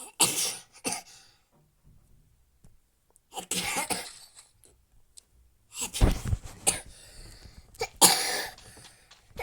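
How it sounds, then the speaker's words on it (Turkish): A child sneezes and coughs in several separate bursts, harsh and close, with quiet pauses in between. "Çocuk hem hapşırıyor hem de öksürüyor."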